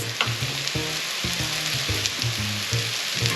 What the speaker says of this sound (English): let's toast up some breadcrumbs